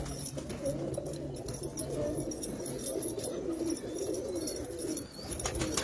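Pigeons coo steadily in a loft in Pakistan, a continuous low murmuring chorus with occasional faint chirps and wing rustles, moderately close and with no talk.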